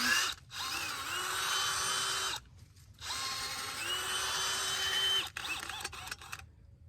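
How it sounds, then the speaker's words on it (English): A handheld power auger churns soil and compost in a garden bed, two sustained whining motor runs of about two seconds each with a brief stop between, followed by a shorter burst and rustling, close up. "I like to just mix it up with this auger because it makes a great consistency"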